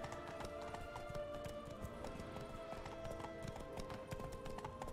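Hooves of a galloping horse clip-clop rapidly and continuously in a Witcher 3 game scene, a steady rhythmic gallop heard close with faint ambient game sound beneath.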